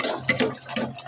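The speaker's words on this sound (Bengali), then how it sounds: "জল দিয়ে দেব।" Water is poured into a pot of chicken and potato curry in a brief, close splashing gush of about a second, with a slight dip in the middle.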